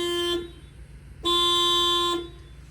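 Original factory horn on a Chevy 5500HD truck sounds two close, loud blasts. The flat, buzzy tone is a short honk followed by a longer held one.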